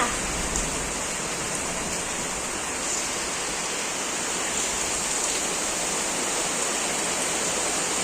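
Heavy rain pours down steadily, a dense, even hiss of water with no pauses.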